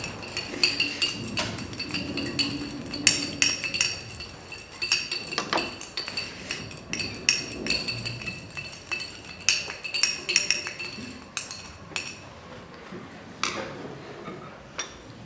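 Mixture being stirred in a lab container during an exothermic and endothermic reaction chemistry experiment, with frequent light glassy clinks and taps from the stirrer, close and steady throughout.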